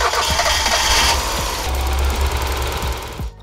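A Mazda Miata turbo engine cranking and catching after bigger fuel injectors are fitted, a loud close rumbling with rhythmic knocks, settling briefly before cutting off at the end.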